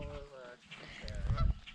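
Resident geese honk at a lakeside campsite on Raystown Lake in Pennsylvania, giving a few close, nasal calls in quick succession over a low background rumble.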